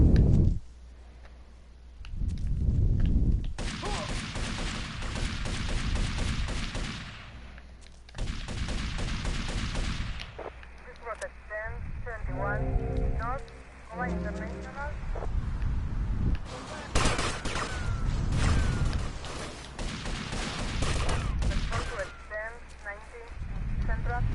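Gunfire in Grand Theft Auto: Vice City Definitive Edition, with bursts of game shots mixed among loud action and clattering effects over about twenty seconds, under stretches of talk.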